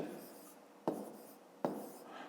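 Pen writing numbers by hand on paper during a fifth-grade math exercise, soft close scratching strokes with two sharper taps as digits are marked.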